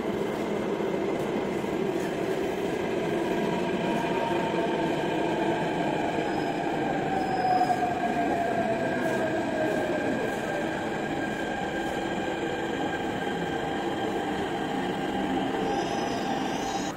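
A Delhi Metro train bound for Vaishali pulls out of the station at early morning, a continuous loud rumble of wheels on rails with rising motor whine and faint squeals, steady throughout with no talk.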